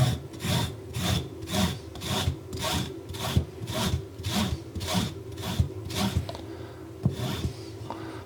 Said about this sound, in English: Let's see how well these rasp style zesters handle the ginger.